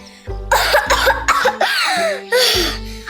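A loud, repeated coughing fit from Stanky, a cartoon character, several harsh barking bursts in quick succession, close and prominent over a low musical drone.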